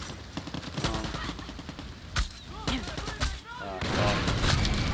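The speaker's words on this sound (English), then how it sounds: "Escaping the gunfire." Rapid bursts of gunfire in Far Cry 6 crackle in quick succession, with sharp single shots and a heavier rumbling barrage near the end.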